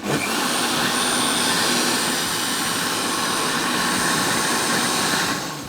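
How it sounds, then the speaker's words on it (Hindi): Kitchen grinder blending salsa chutney with salt, a loud, close, continuous whirring roar that runs steadily and cuts off at the end. "इसके बाद सिंपली इसको ग्राइंड कर देते हैं।"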